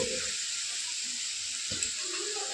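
Washed, cut potatoes fry in oil with a steady loud sizzle, broken by a couple of brief stirring scrapes against the pan.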